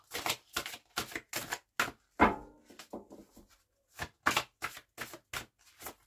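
Oracle card deck being handled and a card drawn, a run of crisp, evenly spaced snapping and flicking taps, close and fairly loud, with a short pause in the middle before the taps resume.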